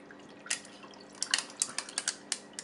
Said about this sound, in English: So I'm just going to pour my drink up.